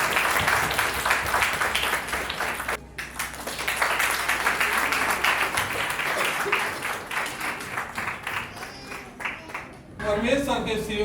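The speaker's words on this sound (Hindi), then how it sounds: "ताली बजा दीजिए, ताली की कमी नहीं होना चाहिए।" Wedding guests clap together at a Christian church wedding, producing a dense, sustained wash of applause that briefly dips and then swells again. Voices talk over and through the clapping.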